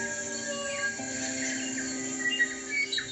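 Native New Zealand birds sing a faint dawn chorus of overlapping sustained whistles and scattered chirps, forming a continuous, distant, shimmering wash of song.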